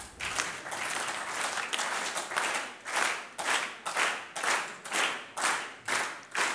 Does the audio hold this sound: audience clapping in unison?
yes